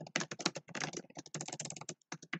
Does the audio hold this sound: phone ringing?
no